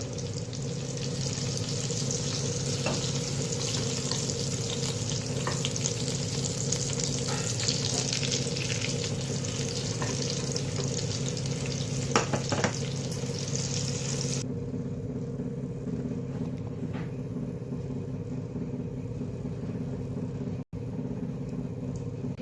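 Stuffed pui (Malabar spinach) leaf fritters frying in oil, a steady close sizzle and bubbling that continues throughout, with a slight drop in brightness partway through and no talking.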